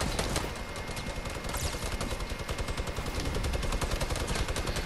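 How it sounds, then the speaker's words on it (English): A minigun fires in a video game, a dense rapid stream of gunfire that rattles continuously and loudly for several seconds without a break. "Minigun, baby, minigun."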